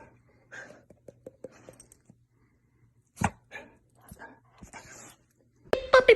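A dog whimpers and pants in short, soft bursts across a quiet indoor scene, with a few faint taps between them and a louder rustling scuffle at the end.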